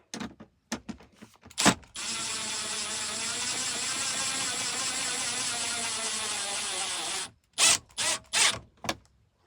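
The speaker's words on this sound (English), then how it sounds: "Screw gun." A screw gun drives a bolt during electrical work on a 1998 Volvo semi truck, giving one steady, close whir lasting about five seconds, bracketed by short clicks and brief trigger spurts before and after.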